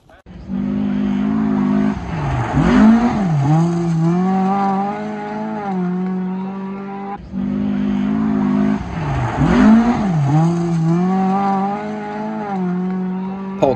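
A Volvo 940 rally car driven hard on a gravel stage at the Västrallyt rally, engine note rising and falling loudly through gear changes, with tyre scrabble and gravel noise; a voice can be heard over the engine.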